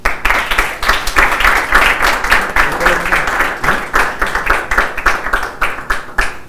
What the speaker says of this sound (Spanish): demos nuevamente un fuerte abrazo. Abrazo no, aplauso al señor Alcides.